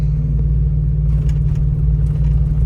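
A camper van's engine in first gear descends a snowy, icy grade slowly, producing a loud, steady low rumble with faint crunches and clicks above it.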